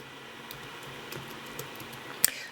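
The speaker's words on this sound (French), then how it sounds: "je vais taper le mot bonjour" Keystrokes on a computer keyboard typing out a short word, a soft run of faint clicks ending in a sharper, louder key tap near the end, with no talking.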